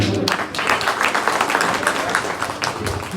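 An audience claps and applauds, a dense, sustained patter of many hands at moderate loudness, at a talk or gathering.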